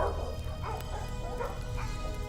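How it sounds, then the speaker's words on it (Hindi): Several dogs barking and yipping in a rhythmic series, somewhat distant beneath a steady low background rumble. "कुत्तों की भौंकने की आवाजें फिर सुनाई दी।"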